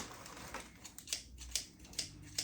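Scissors snip quietly several times in a loose rhythm, each cut a short crisp click against a faint background, no voices.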